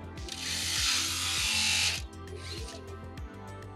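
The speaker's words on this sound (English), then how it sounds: "So if we can bring the elevator down, we'll do a simple shot here." An FRC competition robot's elevator mechanism lowers with a whirring motor whine and rapid ratcheting clicks, close and fairly loud, then settles into a ticking mechanical rhythm.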